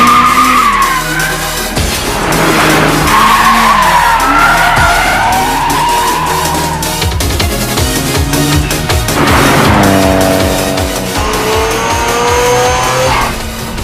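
A car drifting through a timed race, tires squealing and skidding as the engine revs and shifts, loud and continuous across several sliding sweeps with no talking.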